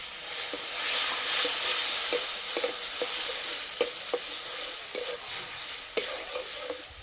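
Spice powders (cumin, chilli, turmeric) and a splash of water sizzling in a pan for an egg omelette curry, a steady close hiss broken by scattered clicks and scrapes of stirring, with no talk.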